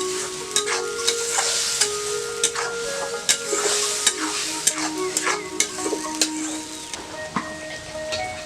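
Turmeric and salt spice mix frying in a pan, a continuous bright sizzle with frequent clinking stirs and scrapes of a spoon, close and steady throughout, no voices.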